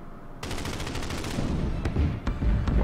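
A rapid burst of gunfire from a unit shooting at a bomber in Order of Battle Panzerkrieg, a dense clattering volley followed by a few sharp single reports.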